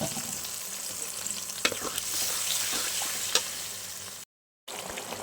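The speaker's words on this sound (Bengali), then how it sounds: "আমি এবার ভালো করে নেড়ে চেড়ে মশলাটা কষিয়ে নেব।" Marinated chicken pieces sizzling in spice paste in a pan while being stirred, a close steady fry broken by a few sharp scraping clacks and a brief gap of silence near the end.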